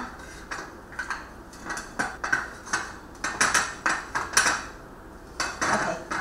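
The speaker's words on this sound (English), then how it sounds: "I just usually scoop it in with a spoon." A spoon scrapes and taps against a glass bowl while scooping cooked rice, making a quick run of light clinks and scrapes at close range. No voices are heard.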